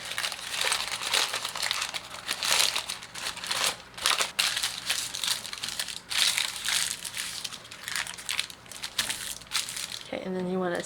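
Close, steady crinkling and crushing of a stamped paper sheet being worked into faux leather, with bursts of crackle throughout and a brief voice-like tonal sound at the very end.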